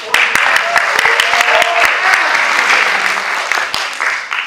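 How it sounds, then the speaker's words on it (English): An audience at a 2016 division conclave gives a full round of applause, with sharp individual claps standing out near the start and the clapping thinning as it tapers off. "give a round of applause for us"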